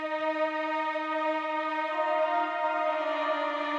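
Violin and a second part playing together as one sustained layered tone in an Ableton Live production, steady and alone, swelling slightly brighter toward the end.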